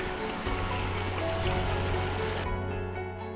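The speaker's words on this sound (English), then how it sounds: "I cross several streams, which is good for water replenishment" A mountain stream on the way up the Bietschhorn, flowing with a steady close rush and splash that cuts off abruptly near the end.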